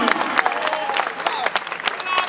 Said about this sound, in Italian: Un applauso, dai, dai!